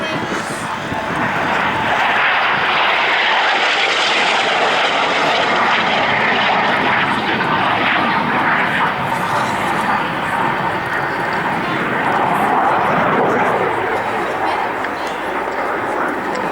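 An F-86 Sabre jet flies past at the RAF Cosford airshow, its loud, continuous engine roar rising and falling steadily throughout, with a voice talking over it at times.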